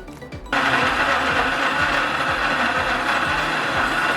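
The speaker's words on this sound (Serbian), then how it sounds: "stavljam svo povrće u blender" A kitchen blender kicks on after a short quiet moment and runs loud and steady, grinding tomatoes and other chopped vegetables with a rough, continuous whir and churning rattle until the end.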